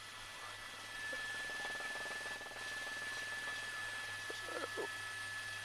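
A police helicopter hovers overhead during a car chase, a faint, steady rotor drone that swells slightly after the first second and holds, with a couple of brief distant sounds near the end.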